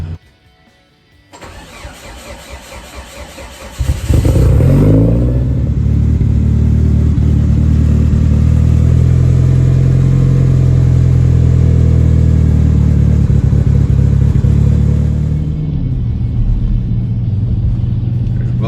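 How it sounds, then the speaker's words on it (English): A Dodge Durango engine, freshly repaired after a water pump replacement, cranks and starts, then settles into a steady, loud, close idle rumble that runs evenly before easing slightly near the end. "Durango running good."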